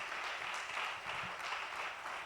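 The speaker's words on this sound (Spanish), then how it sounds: "Dale un fuerte aplauso al Señor." Church congregation applauding during a Spanish-language service, a steady broad wash of clapping that holds at an even level for the whole moment without breaks.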